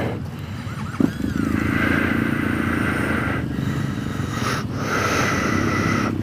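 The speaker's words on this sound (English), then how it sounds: "I've got Steve on his KTM" A KTM motorcycle on the Kielder 500 ride, heard as a steady engine drone throughout with a sharp knock near the start and two brief rises in hiss later on.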